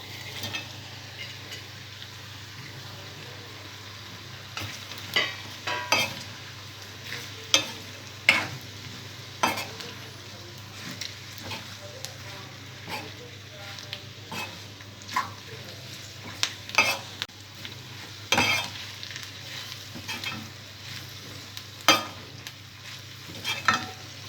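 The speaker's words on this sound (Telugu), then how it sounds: "ఉల్లిపాయ ముక్కలు కొద్దిగా ఫ్రై అయిన తర్వాత ముందుగా ఫ్రై చేసి పెట్టుకున్న కాకరకాయ ముక్కలు వేసుకోవాలి" Bitter gourd pieces, fried earlier, are frying and being stirred with onions in a pan for a spicy Kakarakaya fry. A low steady sizzle runs throughout, broken by frequent scraping and stirring clatters of a spoon against the pan, with no talking.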